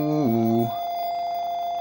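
An old computer powering up gives off a short harmonic electronic tone that drops in pitch and cuts out, then a steady high whine carries on alone.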